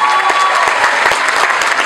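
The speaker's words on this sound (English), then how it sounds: "So please give him a big round of applause" Audience at a film festival awards night in Melbourne claps steadily and fairly loudly, a dense patter of hands with no voices over it.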